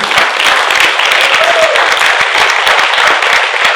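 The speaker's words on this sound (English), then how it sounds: "Huge round of applause, guys." Audience applause at an ICAI leadership event, a dense, steady wash of clapping from a large crowd that holds loud and even throughout without any talk over it.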